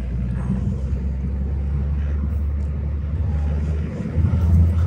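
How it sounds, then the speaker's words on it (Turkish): Car engine running while driving in second gear through city traffic, a steady low rumble with a slight swell near the end, loud and continuous with no speech. "Motorun çalıştığını kısmen çekmiştim."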